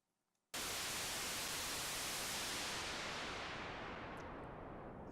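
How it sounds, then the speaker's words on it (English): A synthesizer's white noise runs through a four-pole low-pass filter. It bursts on abruptly after a moment of near silence, then holds as a steady, loud hiss that slowly darkens as the filter sweeps the highs away. "this is the very basic white noise filter that you hear."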